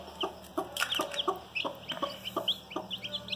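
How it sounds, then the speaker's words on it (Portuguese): A cluster of newly hatched chicks peeps in rapid, overlapping high chirps and small clucks, close and steady throughout with a faint hum behind. "Olha só quantos pintinhos."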